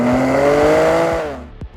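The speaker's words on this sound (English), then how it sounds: "there's a 3-litre twin-turbo inline-6 engine in front of me" A 2023 BMW M2 with its 3-litre twin-turbo inline-6 engine tested in Arizona gives a loud, steady, close-up rev that holds, then falls away sharply at the end.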